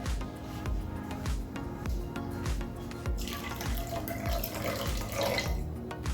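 A quarter cup of water poured onto a hot Blackstone griddle while cooking a large egg omelette, giving a steady close hiss and splashing with repeated low thumps underneath.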